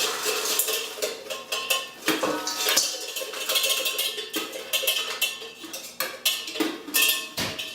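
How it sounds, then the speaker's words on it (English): Stovetop popcorn is poured from a metal pot into a bowl, giving a busy run of light rattling, clattering pours and metallic scrapes, close and fairly loud with no talking. "Take it off the heat, move the bowl over."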